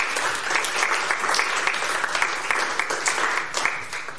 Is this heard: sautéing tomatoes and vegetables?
no